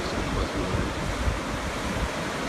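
Ocean waves wash in at the south jetty in Venice, a steady, loud surf roar with wind buffeting the microphone throughout and no pauses.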